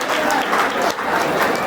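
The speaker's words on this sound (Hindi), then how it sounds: "एक बार विजय भाई के लिए तालियां हो जाए।" Audience applause for Vijay Bhai at an SRP Group 7 reunion gathering in Nadiad, a thick, steady burst of clapping from a crowd, close and loud for the brief moment.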